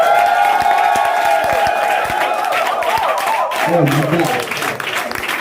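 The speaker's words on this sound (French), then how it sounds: "Est-ce que tu peux pousser et acclamer le Dieu vivant?" A church congregation at a prophetic worship gathering erupts in loud shouting, cheering and clapping, with a dense crowd roar, whoops and sustained voices filling the room.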